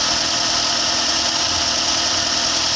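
A Daihatsu Gran Max engine idling with an idle-speed fault, giving a steady, continuous mechanical drone with a broad hiss over it, close and even throughout with no talk.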